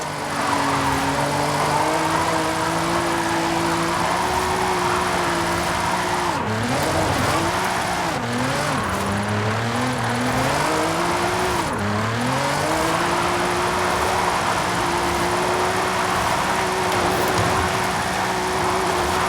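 A Nissan GT-R with its VR38DETT engine drifts in Forza Horizon 5, a steady engine drone with pitch that swoops and wavers through slides and gear changes, loud and continuous throughout with no voices.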